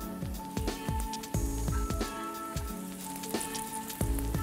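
Tortillas crisp in a hot pan with a generous amount of oil, a busy crackling sizzle dotted with sharp pops and spits, close and steady throughout.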